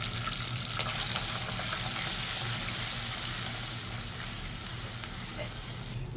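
Garlic paste hitting a hot pan, a dense steady sizzle close by with a brief faint clatter, no talking.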